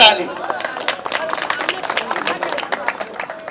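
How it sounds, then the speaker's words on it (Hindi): Crowd applause at a rally at Jantar Mantar: dense, bright clapping from many hands outdoors, sustained and fairly loud, mixed with crowd noise and voices. "तो एक बार अपने लिए जोरदार ताली।"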